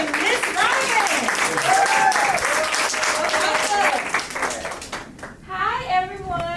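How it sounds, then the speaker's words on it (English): An audience applauds Mr. Yona and Miss Ryan at a Brand Your Brand Day event. The clapping is loud and dense and runs throughout, with excited voices calling out over it before it thins toward the end. "can y'all give the same round of applause y'all gave Little Mama for Mr."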